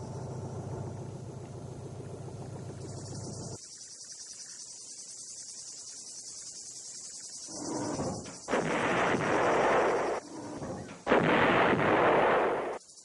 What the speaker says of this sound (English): The 130mm field gun had a range of 19 miles, further than any comparable American gun.